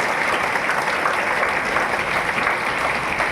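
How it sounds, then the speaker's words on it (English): An audience gives students a big round of applause at a school Independence Day celebration, steady dense clapping filling the whole stretch at an even, fairly loud level. "Let us give them a big round of applause."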